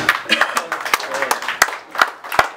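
A small audience claps for the director general of Simfaso; sharp, sparse claps land irregularly, close and fairly loud, with voices murmuring between them.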